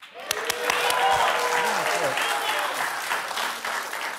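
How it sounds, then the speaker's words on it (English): Studio audience clapping on a late-night talk show, a broad wash of applause with a few sharp individual claps at the start, mixed with overlapping voices and cheering throughout. "Don't clap for that."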